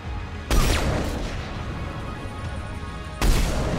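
Game gunfire in Mass Effect 3, two heavy booming shots about three seconds apart, each a loud sharp onset followed by a dense rumbling tail of battle noise.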